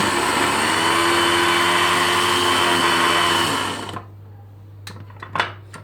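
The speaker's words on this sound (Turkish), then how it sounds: "Hepsini blenderden geçirdim" A kitchen blender purees peppers and tomatoes in a loud, steady whir that runs for about four seconds, then cuts off abruptly, leaving a quiet room with a few light clicks and knocks.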